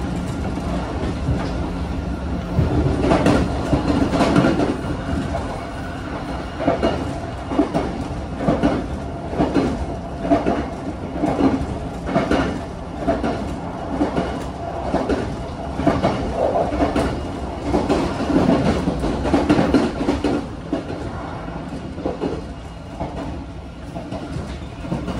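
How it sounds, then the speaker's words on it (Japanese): Motor whine and running noise of a 381 series limited express Yakumo, heard from the deck area on a mountain line: a steady, loud rumble with rhythmic wheel clatter throughout, and no talking. "デッキ部分の方がね、モーターの音とか走行音がよく聞こえるから"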